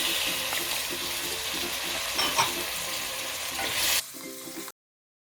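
Tomatoes hitting frying onions for chicken pulao, giving a steady broadband sizzle with scattered stirring scrapes, a brief louder burst near the end, then abrupt silence.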